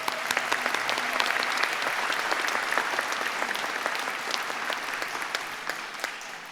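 An audience applauding steadily at a university convocation ceremony, dense clapping throughout with a full, continuous sound that fades slightly near the end.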